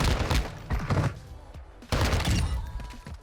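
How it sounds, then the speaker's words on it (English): ISO Hemlock rifle fire with laser tracer rounds in Modern Warfare II: two loud bursts of rapid shots with sharp impacts, separated by a brief lull, no talking. "Now let's look at these lasers for the ISO Hemlock."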